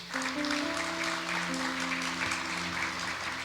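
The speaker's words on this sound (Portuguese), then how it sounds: "Aplauda o Senhor por isso, queridos" Church congregation clapping for the Lord during a sermon, a soft wash of applause heard behind sustained low musical tones, probably a keyboard, fairly faint overall.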